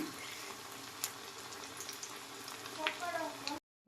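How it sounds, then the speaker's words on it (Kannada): Fish frying in oil in a home kitchen gives a steady, close sizzle with soft crackles and occasional pops, cutting off abruptly near the end before a brief click. "ಇವಾಗ ಫಿಶ್ನ ಆಯಲ್ಗೆ ಹಾಕಿದ್ದೀನಿ"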